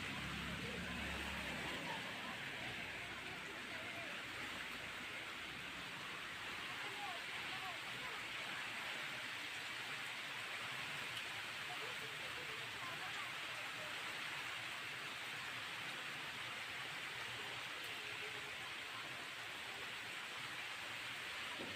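Steady rainfall, a soft continuous hiss of drops on surfaces, faint and unbroken throughout with no voices over it.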